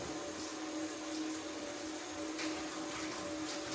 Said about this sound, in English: I'm about to rinse these green beans off